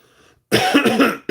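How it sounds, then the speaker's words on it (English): A man in a warm shed gives one loud, harsh cough right at the microphone, a single rough burst lasting most of a second after a moment of quiet. "got this crazy cough going on sometimes."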